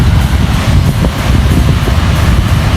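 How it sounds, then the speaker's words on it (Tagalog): Strong wind blasts straight into the microphone outdoors on a trip through southern Negros Occidental, a loud roaring rumble with gusty buffeting that never lets up, with no speech over it. "Grabe ang hangin."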